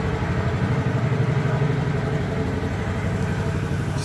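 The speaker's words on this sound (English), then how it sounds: "Just got it on low idle" Comet P40 small engine running steadily on low idle off its fuel tank, a constant chugging drone at close range, with no voices over it.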